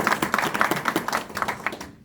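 A small group claps together at a political party members' meeting, brisk rhythmic clapping from a room of supporters lasting about two seconds and fading out at the end.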